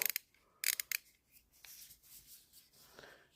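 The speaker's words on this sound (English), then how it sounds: "The ratcheting mechanism feels really nice." A Noctua ratcheting screwdriver, its ratchet mechanism giving a few quick close dry clicks in short bursts, then softer scattered rattles and rubs, with no talk.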